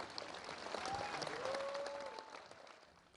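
Brief crowd applause after Barack Obama's speech in his home village of Kogelo, Kenya, faint and distant, with a few voices calling out over the clapping as it fades.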